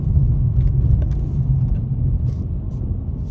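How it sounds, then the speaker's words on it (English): A BMW 435i M Sport drives on a snowy back road in heavy snow, its engine and tyres giving a steady, loud, low rumble heard from inside the car, continuous throughout with no talk. "I'm already drifting."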